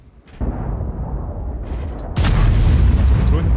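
Heavy booming cannon blasts from a DBV-152 tank destroyer in a video game, one muffled and then a louder sharp shot with a long rumbling tail, with no talking.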